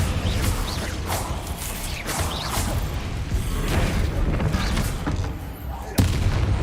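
Confringo fire spell blasts in the Hogwarts Legacy video game, a dense run of booming, crackling impacts and whooshes layered with battle noise, loud and continuous, with a sharp burst near the end.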